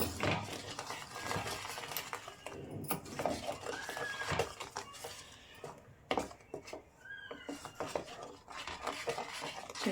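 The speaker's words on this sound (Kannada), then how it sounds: "ಈಗ ಚೆನ್ನಾಗಿ ತಿರುಗಿಸ್ಕೊಳ್ಳೋಣ" A spoon scrapes and clinks around a pot as sugar is stirred into a muskmelon mixture, irregular close metallic taps and rubs at low volume.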